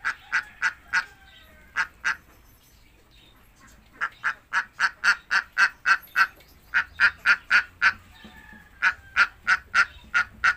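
Swan geese with their young, just out of a nesting basket, honk in a steady series of loud, close, nasal calls, at first in separated pairs, then in quick regular runs with short pauses.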